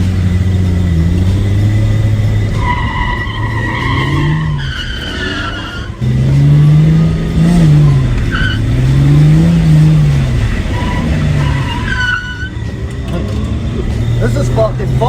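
A New Edge Ford Mustang drifting on a wet track, its engine revving and rising in repeated surges while the tires skid and squeal, loud and close, with people talking and shouting over the car.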